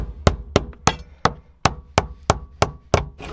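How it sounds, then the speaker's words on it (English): A rubber mallet taps a flat-head screwdriver around the plastic retaining ring of a BMW E36 fuel pump, giving about ten crisp, evenly spaced knocks in quick succession, close and fairly loud with no voices. "you basically just have to get a flat head and a mallet. Just tap around it to loosen it up."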